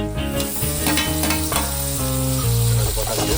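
Curry leaves sautéing in hot oil for a homemade chicken dish, with steady close sizzling and frying crackle plus rhythmic stirring scrapes throughout, loud and continuous with no talk.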